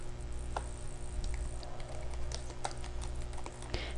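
Fingers typing a note on a computer keyboard, a quick, fairly close run of light irregular key clicks over a steady low hum, with no voices.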